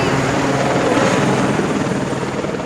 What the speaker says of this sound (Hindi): और हेलीकॉप्टर आपको देखा आपने यहाँ से जाता है और आता भी है।